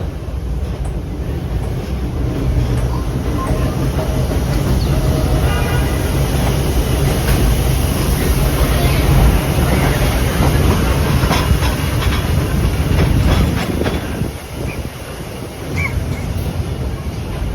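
Vintage New York City subway BU gate cars roll past during a train parade with a loud, steady rumble and rattling wheel clatter, plus wind buffeting the microphone, before the noise eases near the end.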